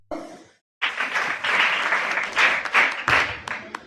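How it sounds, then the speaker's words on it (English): A school assembly audience claps for a presentation, starting after a brief voice and a short pause, then sustained, lively applause with uneven surges. "give them a warm round of applause once again"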